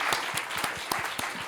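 Audience applause for a panel at a NATO-EU roundtable, a dense, steady wash of many hands clapping at moderate distance, with a few sharper individual claps standing out.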